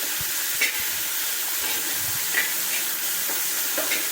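Onions sizzle steadily in a hot pan for coconut rice and chicken curry, a broad hiss running throughout with soft scraping stirs and occasional light clinks of the spoon, close and without talk.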